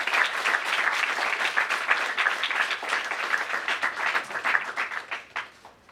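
Loud, sustained audience applause fills a Republic Day celebration hall as a guest speaker is welcomed, dense clapping rolling steadily for several seconds before tapering off near the end.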